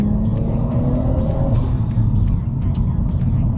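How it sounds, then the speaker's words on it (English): Nissan R34 Skyline GT-T with an RB25 engine and HKS exhaust revving, a loud, close, deep rumbling engine note that rises in pitch before settling back, with a brief voice heard under it. "this car has a HKS exhaust. It makes the car sound really aggressive."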